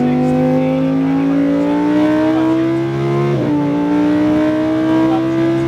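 A Lamborghini race car on the Las Vegas Speedway accelerates hard, its engine note rising steadily through the revs, with a brief dip around a shift before climbing again, loud and close throughout.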